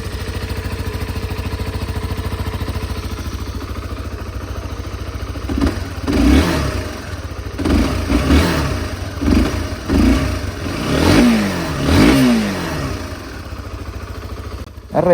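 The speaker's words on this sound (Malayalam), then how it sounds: "ഞാൻ വണ്ടി ഒന്ന് ഫയർ അപ്പ് ചെയ്ത് കാണിച്ചു തരാം" An older Honda CBR 150R motorcycle idles steadily, then its engine is revved in a series of sharp, loud bursts that climb and fall back to idle, close by with no talking.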